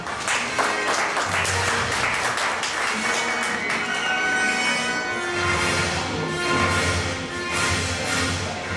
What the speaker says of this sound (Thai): ขอเสียงปรบมือท่านอีกครั้งคร